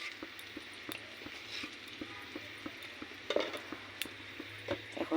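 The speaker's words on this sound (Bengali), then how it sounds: "এখন আমি ভালো করে মশলাটা কষিয়ে নেব।" Masala with Kashmiri chili powder and turmeric fries in a pan: a steady soft sizzle with intermittent scraping stir strokes and small clicks, close up, with no talking.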